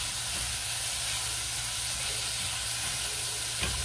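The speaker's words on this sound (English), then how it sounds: "What we're doing is sweating these down until they become about translucent" Aromatics sweating down in a pan for a chicken herb velouté sauce sizzle steadily with a bright, even frying hiss and a soft low rumble underneath, close and continuous without pause.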